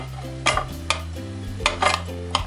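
Several quick metallic clanks and scrapes of a utensil against a pan as frying cauliflower with egg and cheese is flipped, irregularly spaced, over a low steady background hum.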